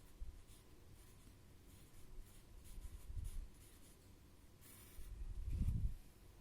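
A pen or pencil writes in a notebook with soft, close scratching strokes and a few louder rubbing bursts, quiet overall, with no talking.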